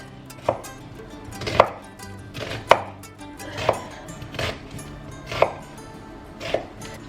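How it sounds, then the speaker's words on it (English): A kitchen knife slices down through an onion on a cutting board, six or seven evenly spaced, crisp close chops with quiet pauses between them. "So then I slice down towards the root."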